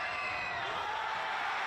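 Crowd noise from basketball spectators in Bendigo, a steady roar of cheering and shouting that stays level and fairly distant throughout the brief moment.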